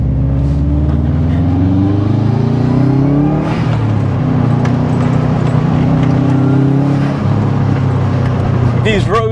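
A JDM Subaru Impreza STI Spec C Type RA driving on pothole-ridden roads, its engine droning loudly and rising and falling in pitch through the gears, with someone talking over it.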